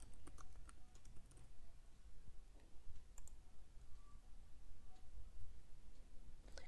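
Computer keyboard typing and mouse clicks in a quiet room, a run of soft rapid keystrokes near the start, then sparser clicks and taps over faint background hiss.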